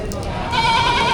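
Goats at a cattle, goat and carabao market in Padre Garcia, Batangas give a brief close bleat that rises into a wavering cry.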